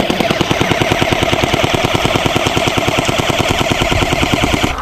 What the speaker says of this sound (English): Full autoing a box gun.